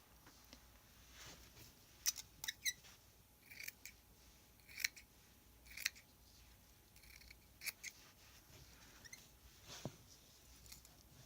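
Scissors snip through fabric while a junk journal cover is made from a vintage pillow cover: a series of short, crisp cuts in small bursts with pauses between, quiet and close, with no talking.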